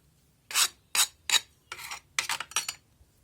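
Excess sand is scraped off a sand casting mold for a wedding band, in six or seven short raspy strokes in an uneven rhythm, close and crisp against an otherwise quiet background.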